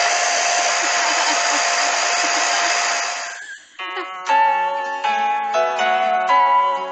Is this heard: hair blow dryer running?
yes